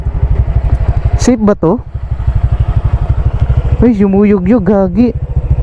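Honda Click 125i scooter crossing a bridge, its engine putting at a steady rhythmic idle up close while a rider talks over it in short excited bursts.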